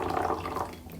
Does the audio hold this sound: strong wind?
no